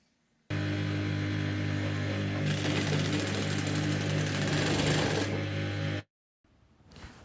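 A sewing machine stitches a leather handbag in one close, steady mechanical run of about five seconds, with a rhythmic whirring drone, then stops abruptly and a faint rustle follows.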